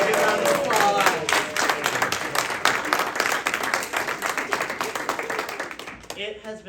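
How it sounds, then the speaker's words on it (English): A crowd of parents and guests claps steadily at a children's spy-themed camp showcase, a dense patter of many hands that carries on and then thins out toward the end. "Give a round of applause."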